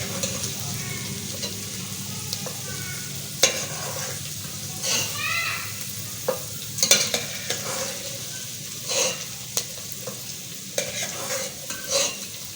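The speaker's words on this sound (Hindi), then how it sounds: "यहाँ मैंने ऑयल में डाली है प्याज। अब मैं प्याज करूँगी फ्राई" Onions fry in oil in a pan for a vegetable tahari, with a steady sizzle under repeated scrapes and clinks of a spoon stirring against the pan, close and fairly loud.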